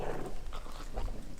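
A Maremma puppy out in a field with livestock yelps and whimpers after being run over by another dog, giving a few short, close cries over background rustle.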